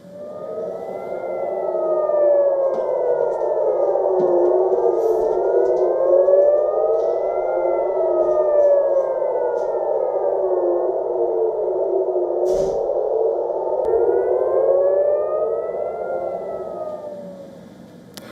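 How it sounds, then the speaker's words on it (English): Air raid sirens over Tel Aviv wail in long rising and falling sweeps, overlapping and echoing from a distance, with no talking. "The sound of sirens and blasts has been heard over Tel Aviv"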